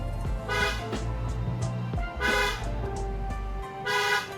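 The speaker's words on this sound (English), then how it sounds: "I think we honked enough." Repeated car horn blasts sound over a running engine: three loud honks spaced about two seconds apart, close by.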